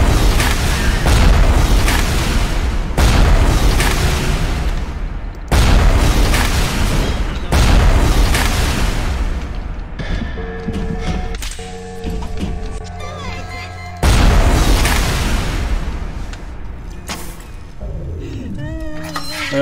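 Fragmentation grenade blasts in BioShock boom out as a series of heavy, loud explosions, each a broad roar that fades, separated by quieter stretches of game clatter.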